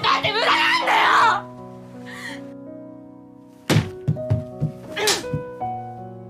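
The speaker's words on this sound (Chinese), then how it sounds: "卧室的门被硬生生掰断" In a film scene, a bedroom door is forcibly broken off during a struggle between two women. Loud screaming and shouting give way to sudden heavy thuds and cracks, then more crying voices, all over sustained background music.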